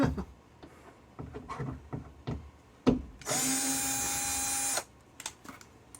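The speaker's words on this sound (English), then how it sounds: "Try not to drive your screws in too deep like I've been doing most of today." A power drill drives screws into a large drywall patch to tack it in place, giving one steady whirring burst of about a second and a half. Scattered handling clicks and taps come before and after.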